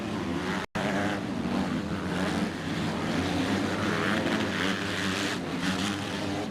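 Motocross racing motorcycles roar together as a continuous, fairly loud engine drone at a Galle supercross event, with revving swells and no speech.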